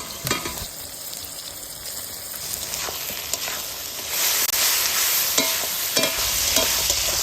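Chopped tomatoes and onions frying in a pan, a steady loud sizzle with occasional utensil scrapes and clicks, and the hiss swelling a little partway through.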